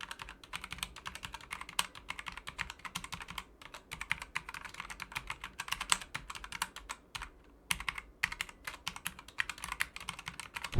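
Rapid, steady typing on a Gamepower Eva 5 60M mechanical keyboard with red switches and double-shot keycaps, close and fairly soft, with brief pauses between runs of keystrokes.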